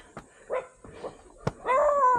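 A guard dog barks at a mountain trail site: a few short yips and soft thumps, then a longer, louder bark near the end, at moderate distance with no talking.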